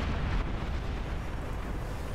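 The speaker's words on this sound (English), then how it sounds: "I'll also fire a cannon." Cannon fire in the real-time strategy game Beyond All Reason, heard as a dense, loud rumbling boom with a heavy low-end roar that fills the whole span, with no gaps and no voices.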